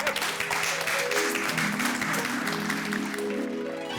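Applause greets chief guest Jethalal Champaklal Gada arriving at a club house event, a dense wash of clapping blended under a swelling musical tone.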